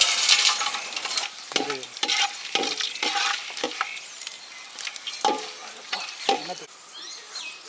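Cinnamon and cloves sizzle and crackle in hot cold-pressed oil in a village kitchen, with loud bursts of spitting and stirring scrapes over a steady frying hiss.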